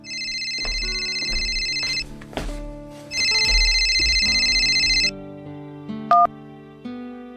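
A mobile phone rings with an incoming call, its bright synthesized ringtone melody playing in two loud bursts with a short gap between them, then stopping. Nobody talks over it.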